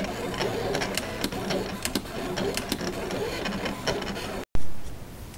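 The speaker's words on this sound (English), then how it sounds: "the silhouette has finished cutting out my 2 items" A Silhouette electronic cutting machine trimming paper, giving a busy whir with rapid clicking and ticking motor movements close by. It runs continuously, then a brief dropout is followed by a louder burst near the end.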